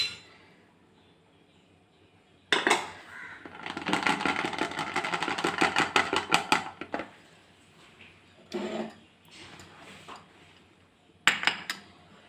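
Maida flour sifted into a bowl for carrot cake: a close, steady burst of rapid rhythmic tapping and rattling from the sieve, followed by a few short separate shakes in a quiet kitchen.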